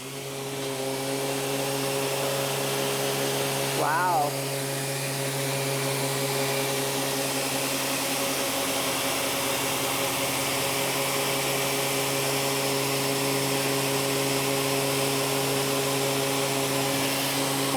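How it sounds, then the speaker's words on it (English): A woodworking sander runs with a dust-extraction vacuum attached, giving a steady whirring drone with a strong motor hum. A person makes a brief exclamation near the start. "now I'm going to do it with the vacuum attached"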